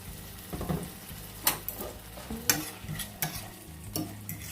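Shrimp for General Tso shrimp taco bowls, already browned, tossed into a hot pan with peppers and stirred, giving a steady close sizzle broken by several sharp scraping and clattering bursts from the utensil against the pan.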